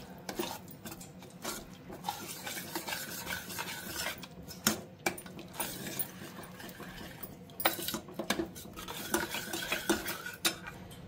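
Tamarind-leaf dal being stirred in a pot after water is added, with soft rhythmic scraping and occasional clinks of a spoon against the metal pot, quiet and close, no talking.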